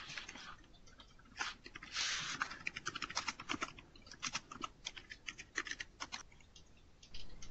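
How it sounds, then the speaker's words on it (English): A question is typed on a computer keyboard during a conference call: steady, close clicking of keys in quick irregular runs with brief pauses, fairly quiet, with no talk over it. "Why don't you type your question actually in the conversation box?"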